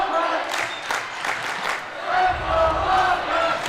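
High school basketball crowds at a Mulvane versus Rosehill homecoming game trade rhythmic clapping and cheering back and forth, loud, with a commentator talking over it.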